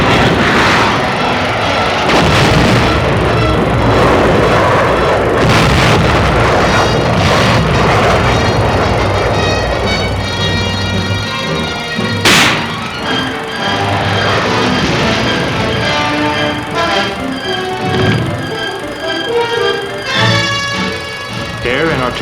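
Military training exercise with artillery fire and air bombardment: heavy booms, rumbling aircraft and sharp blasts pile up in a loud, continuous barrage, one especially sharp crack standing out partway through, with voices heard intermittently.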